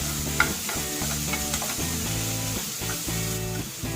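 Green chillies and onion frying in a pan for vermicelli pulao, a steady close sizzle broken by repeated scraping stirs throughout.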